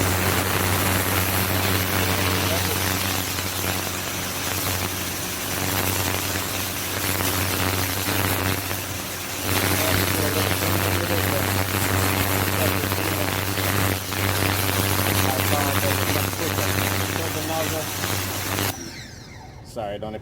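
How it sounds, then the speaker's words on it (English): A Ryobi 1600 PSI electric pressure washer runs with a spinning black turbo nozzle, giving a loud, steady droning whine with a low hum throughout that cuts off abruptly near the end. "put the turbo nozzle on, which is this black one here that spins"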